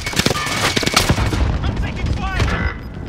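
Rapid gunfire crackles in Warzone, a dense burst of close shots that fades into scattered fire, with voices talking over it.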